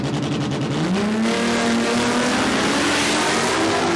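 Drag racing cars launch hard on an Australian eighth-mile strip at a Christmas event, a loud sustained engine roar climbing steadily in pitch as they accelerate away, no voices over it.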